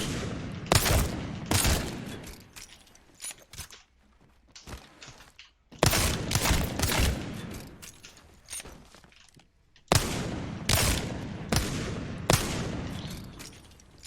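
Gunshots in the video game Apex Legends, sharp loud bursts of rapid fire in three separate clusters, each a string of cracking reports with brief trailing reverberation and quieter gaps between volleys.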